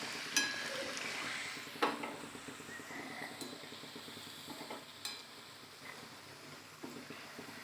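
Green moong bhaji fritters frying in oil over high flame, a soft continuous sizzle with occasional sharp clinks and stirring scrapes, no voices.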